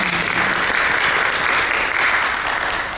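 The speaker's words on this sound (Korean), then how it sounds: "박수 한번 주세요." Sustained audience applause fills a book concert hall at a bestselling essay author's talk event, a dense steady clatter of many hands at even loudness throughout with no pause.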